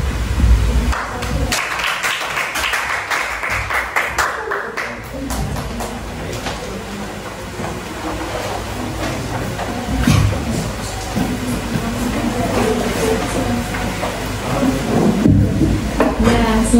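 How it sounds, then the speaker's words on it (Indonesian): Classmates clap in a classroom, a dense, sustained rush of applause that runs throughout, loud and noisy like heavy rain, with brief spoken bits mixed in. "beri tepuk tangan teman-teman"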